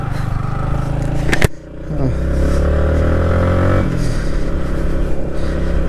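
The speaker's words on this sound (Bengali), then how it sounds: "আপনারা হয়তো বাইকের সাউন্ড শুনে বুঝতে পারতেছেন" A motorcycle engine labours loudly up a steep hill on a rough road near Rajasthali, Rangamati, with a sharp clatter just before it pulls again and holds a strained drone while shifting toward third gear.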